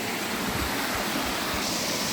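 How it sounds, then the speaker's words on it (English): A cascading waterfall tumbling into a series of small pools in the Mary River region of Kakadu, a steady broadband rush and splash that holds constant and fairly close, with no voices over it. "You've got a lovely cascading waterfall right here"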